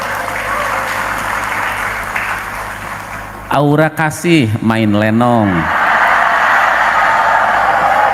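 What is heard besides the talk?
audience cheering and applauding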